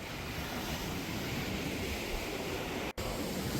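Waves breaking and washing up on a sandy Lake Huron beach in summer, a soft continuous surf wash with some wind noise, fairly faint and steady, no voices, with one brief dropout near the end.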